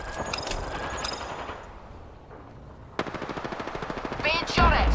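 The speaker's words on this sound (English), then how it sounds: "Getting shot at." Rapid automatic gunfire bursts in the video game Apex Legends, close and loud, with a steady stream of shots in the second half and game sounds around them.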